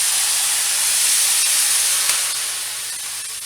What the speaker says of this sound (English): We're going to get some steam, we're going to get some bubble going here